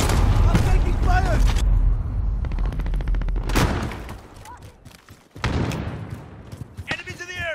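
Rapid video game gunfire from an assault rifle, with loud, close bursts, thumps and booms mixed with game voice callouts and other battle noise.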